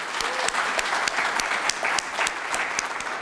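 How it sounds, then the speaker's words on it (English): Steady applause from a crowd, many hands clapping in a dense, even patter for a few seconds. "they deserve a big round of applause"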